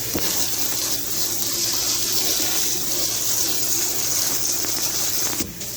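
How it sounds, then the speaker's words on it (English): A sink sprayer blasts cold water over pressed, chopped green tomatoes during a steady loud rinse that runs for several seconds, then cuts off abruptly near the end. "I'll just rinse it here with cold water and my sprayer."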